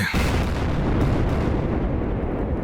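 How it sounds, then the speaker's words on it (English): A loud, deep video game explosion from a Doom mod, with a sustained rumbling roar that fills the whole clip without letting up. "Good grief, this mod gives good explosion."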